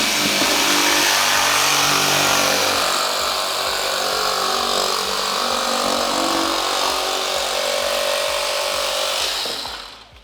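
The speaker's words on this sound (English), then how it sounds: "taking our jigsaw in this case, though you can also use your handsaw." Jigsaw cutting along a marked line through a herringbone flooring plank, a loud, steady buzzing rasp that runs nearly the whole time before stopping abruptly at the end, with no voices.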